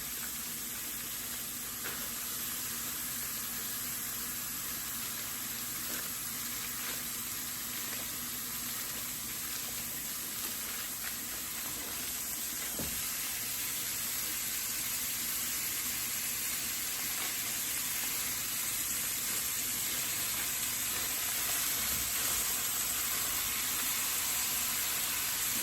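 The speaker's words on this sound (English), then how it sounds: "Ooh, do you hear the sizzle?" Five pounds of ground beef sizzles in a pan, a continuous close hiss and crackle that stays even throughout, with no talk.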